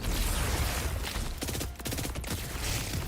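Rapid gunfire in Borderlands 4 aimed at pods, a loud, continuous stream of quick shots with a brief dip midway, close and dense over game noise.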